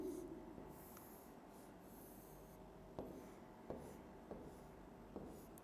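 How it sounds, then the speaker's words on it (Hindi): Chalk or marker scratching across a classroom board during a chemistry lesson on coordination compounds, a steady faint rubbing with a few sharper taps as strokes begin, low and quiet with no talk. "अब मैं इसको खोल के लिख रही हूँ"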